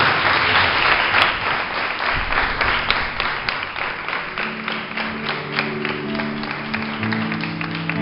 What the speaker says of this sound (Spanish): Dan un fuerte aplauso al Señor.